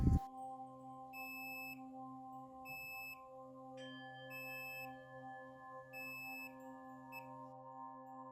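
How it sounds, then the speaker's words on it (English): A continuity tester gives a steady, high electronic beep tone in repeated short bursts, several evenly spaced pulses over a constant low hum, while checking PlayStation 4 connections. "beeping on each one shows that they're all working correctly"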